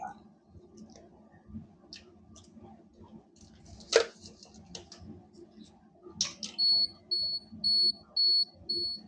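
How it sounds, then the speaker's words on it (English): A Nikon F-501 (N2020) 35mm film camera gives a few short electronic warning beeps in an even rhythm near the end, following some quiet mechanical clicks and handling noise. "It just gives you audio warning that something's not right."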